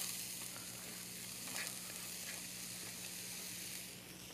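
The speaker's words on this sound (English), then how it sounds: "we're going to start by sauteing our leeks because we want those to soften up first" Leeks sautéing in oil in a pan, giving a steady, even sizzle with a faint hum beneath, quiet and continuous with no talking.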